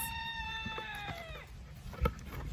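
A single rooster crows once, its drawn-out call falling at the end, followed by a soft thump in a quiet outdoor setting.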